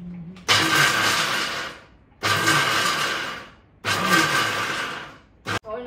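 A mixer grinder grinds ingredients into a coarse paste in a home kitchen, running in three loud, close bursts of about a second and a half each, separated by short pauses.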